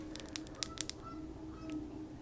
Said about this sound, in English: Do you hear that? That's literally geese